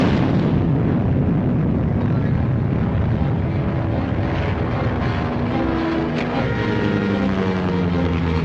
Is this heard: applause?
no